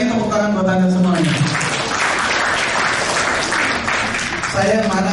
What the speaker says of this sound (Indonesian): itu sekali lagi tepuk tangan buat Anda semuanya